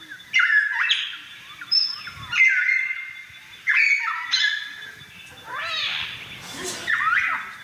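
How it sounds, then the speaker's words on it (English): A catbird sings a run of varied squeaky, mewing and chattering phrases with short pauses between them, loud and close. "regular catbird at normal speed"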